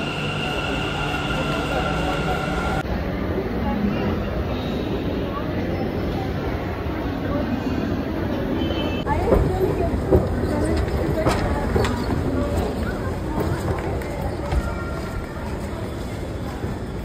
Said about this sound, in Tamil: Mantri square Sampige road metro ஸ்டாப்பில் இறங்கிட்டோம்